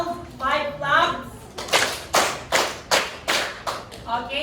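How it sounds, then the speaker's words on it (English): A class claps in unison, five sharp, evenly spaced claps in a steady rhythm, close and fairly loud, with voices speaking before and after the claps. "So can we give again ourselves 5 claps?"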